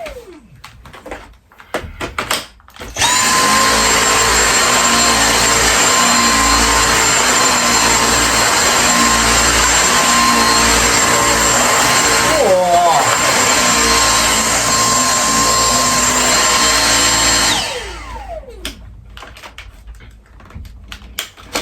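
A Dyson V6 cord-free vacuum cleaner, fitted with a new filter, starts up loud and close with a steady high motor whine, runs for about fifteen seconds with a brief dip midway, then spins down. Handling noises come before and after.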